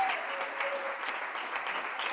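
A church congregation claps together in a brief, dense burst of applause, with a faint voice audible underneath.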